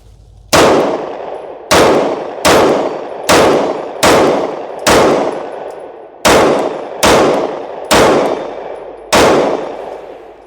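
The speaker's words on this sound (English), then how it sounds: "So I'm going to shoot another 10 rounds" A Sig Sauer P365 pistol with a Tyrant CNC trigger fires ten loud, sharp shots at an uneven pace. Each report rings out with a short reverberant tail before the next one.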